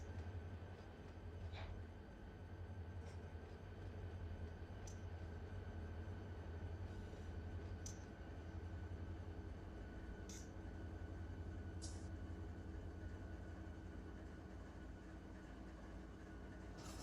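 Locomotive in Run 8 Train Simulator idling and running steadily, a constant low diesel drone with a few faint clanks and squeals on top, sustained at even loudness with no talk.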